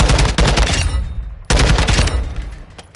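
Automatic weapon fire in Modern Warfare 2: two loud, rapid bursts of gunfire, each starting sharply and fading into rattling echoes, with no talk over them.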